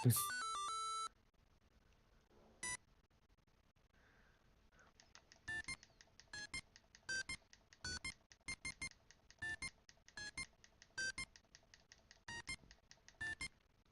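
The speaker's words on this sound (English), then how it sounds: "Beep, beep, beep." Electronic beeps from the handheld Game & Watch Gallery 4, a long tone at the start, then a lone blip and a steady run of short, evenly paced beeps in quick bursts, clear and alone.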